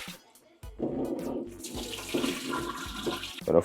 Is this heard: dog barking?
no